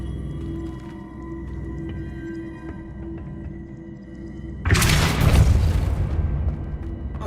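A Depulso force-push spell in the game Hogwarts Legacy goes off as a sudden loud, broad whooshing blast that lingers for about two seconds and stands out over a quiet, humming game ambience.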